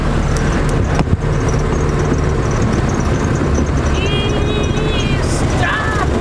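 A 1973 Toyota Celica fitted with a new exhaust rumbles steadily and close by, its engine drone continuous under road and cabin noise, with a brief squeal late on.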